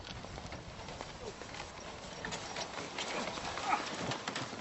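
Horse hooves clip-clop steadily from a period horse-drawn carriage, a continuous rhythmic patter of hoofbeats with faint rolling wheels and ambient noise throughout.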